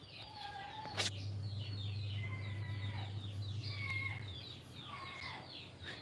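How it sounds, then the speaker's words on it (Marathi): Faint high peeping of chicks, a scatter of short chirps over a low steady hum, with one sharp knock near the start. "हे कोंबड्याच्या पिलांचा आवाज आहे रे"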